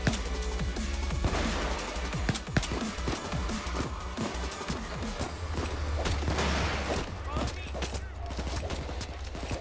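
Dense rapid gunfire from Payday 2, overlapping automatic bursts and single shots with booms, loud and continuous throughout.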